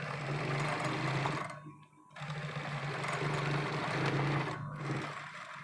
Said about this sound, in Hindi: तो मैं यहाँ इस तरीके से बीचों बीच सिलाई लगा दूंगी।